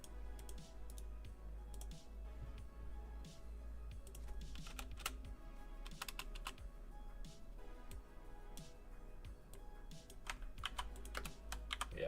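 Continuous computer keyboard typing, quick irregular clicks and clatter running steadily throughout, close by and moderately loud, with a few heavier bursts of keystrokes near the end.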